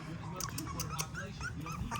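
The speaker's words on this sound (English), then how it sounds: "His little barky bark." A one-month-old puppy gives a string of thin, high yips and whimpers, close and fairly steady over a couple of seconds.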